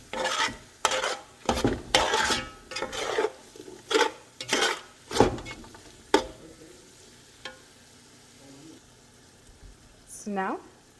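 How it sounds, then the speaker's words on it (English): Biryani meat gravy sautéing in a pot: repeated spoon scrapes and stirring strokes over a soft simmering sizzle, close by, with a brief voice near the end. "So now I'm going to saute for about 2 more minutes"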